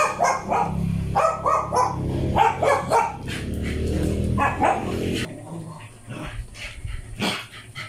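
A pet dog barks repeatedly at other dogs passing by outside a home, loud close yaps and bow-wows in quick bursts, with some whimpering yips and quieter moments near the end.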